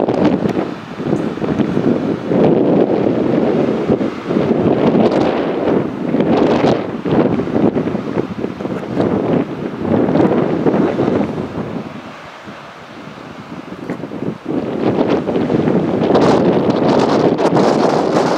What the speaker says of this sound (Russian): пыль, ветер, песок идет